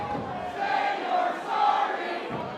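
A wrestling arena crowd chants in two swelling, rhythmic waves, a large mass of voices heard from the middle of the hall with a steady background roar between them.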